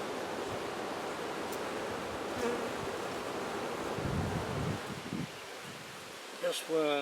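Honey bees buzz around a hive frame in a soft, continuous drone, with some faint handling noise and a brief rustle near the end.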